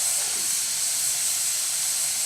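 Steady, loud hiss of steam from an uncovered pressure cooker boiling chaga tea, a continuous rushing blow with no pauses and no talk.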